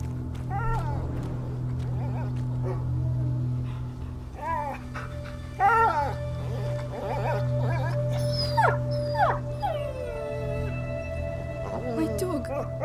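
A dog whimpers and howls in A Plague Tale: Innocence, with thin, wavering cries rising and falling over a steady low hum, with short pauses between them and occasional voices.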